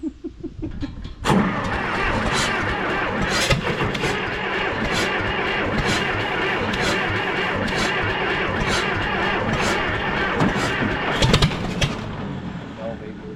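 An old car engine is cranked to start, with a steady rough churning that runs for most of the stretch after a brief quieter opening, loud and close, with people talking nearby.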